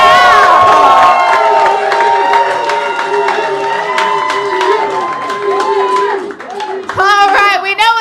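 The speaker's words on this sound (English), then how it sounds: "if you think Caleb won, clap it up right now" A lively show crowd at a Pride roast battle claps and cheers loudly for Caleb, with whoops and shouts over steady applause that dips briefly near the end and then swells back.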